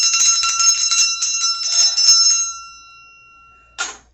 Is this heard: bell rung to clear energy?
yes